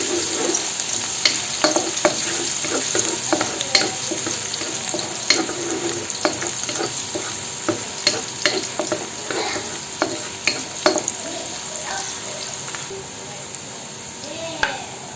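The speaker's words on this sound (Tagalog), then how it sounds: "Saute the garlic." Garlic sizzles in a hot pan for Indian butter chicken, a steady frying hiss punctuated by frequent clicks and scrapes of stirring, close and fairly loud.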